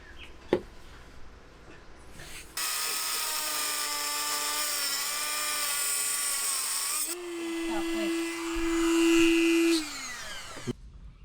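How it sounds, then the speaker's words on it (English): A Dremel rotary tool cuts off a lock on a boat, a loud high-pitched whine that starts abruptly, runs steadily for several seconds, shifts pitch as it bites and strains, then cuts out. "going to use the Dremel, see if we can get that lock off today"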